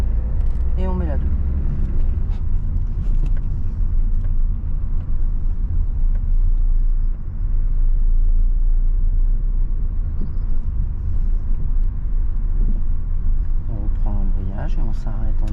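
A car pulls away in second gear during a learner's driving lesson, its steady low engine rumble running close and continuous throughout while an instructor talks over it.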